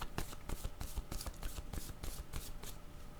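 Playing cards shuffled by hand to draw a word card, a steady run of quick riffling bursts and soft slaps, close and continuous with no talking.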